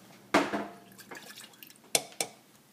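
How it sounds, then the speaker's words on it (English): Creamer being poured into a container, with a splash at the start and a few soft drips and clinks, then two sharper taps near the end, quiet and close. "Pour in your creamer."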